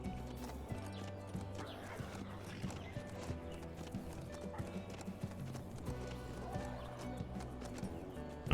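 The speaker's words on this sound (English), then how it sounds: "your horse can sprint or gallop" A horse gallops in the zombie survival game HumanitZ, a fast steady run of hoofbeats over a layered background music bed, continuous and moderately loud with no speech.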